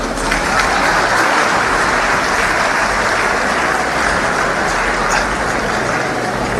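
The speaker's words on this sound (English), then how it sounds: "Go and clap now." Loud, dense applause from a large audience at an Air Peace airline anniversary event in Nigeria, a continuous wash of clapping that holds steady from start to finish.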